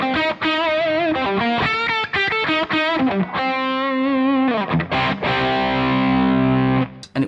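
An electric guitar runs through a Soldano SLO 100 amp with the gain at 12 o'clock, playing mildly overdriven chords and single-note runs, then a long ringing held chord, close and loud with no talk.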